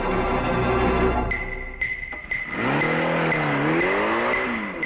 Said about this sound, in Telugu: కారు దూసుకుపోయిన శబ్దం వినబడుతుంది